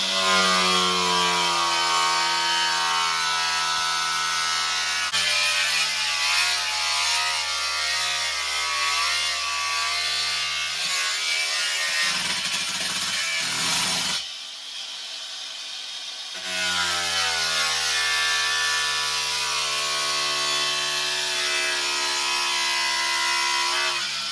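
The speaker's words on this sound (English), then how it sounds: "Well, our John has cut through there, and we've come to steel, and he's come through that" A power tool cuts through a van floor and into steel, giving a loud, steady grinding whine that runs for about fourteen seconds, drops away briefly, then resumes just as strongly.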